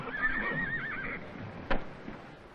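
A horse gives a loud, wavering whinny up close, followed by a single sharp hoof knock and faint shuffling on the ground.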